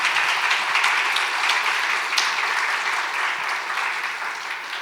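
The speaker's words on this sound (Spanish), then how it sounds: "un aplauso" An audience at a talk on bringing ancient cultures into education claps in a dense, steady round of applause that tapers slightly toward the end, with no voices on top.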